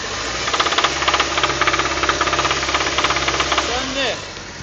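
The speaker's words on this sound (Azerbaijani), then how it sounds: "diaqnoz demişim müştəriyə, şatunu səs eləyir" A twin-turbo GDI car engine with a knocking connecting rod raps in a fast, regular metallic rhythm while running, loud and close; a voice speaks briefly near the end.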